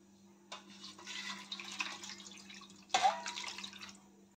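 Water poured into a pot of potatoes, a faint splashing rush in two bursts with a soft trickle between, close and quiet with no talk.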